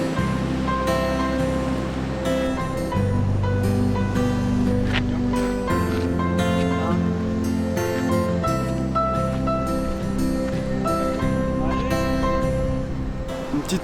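Sea waves wash steadily beside a figure-eight-shaped natural rock pool on the Australian coast, a loud, continuous surging roar with some wind throughout.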